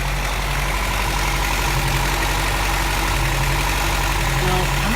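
A 1981 Toyota engine idles steadily at close range while it runs to check for overheating, giving a continuous, even rumble with no change in pitch and no talk.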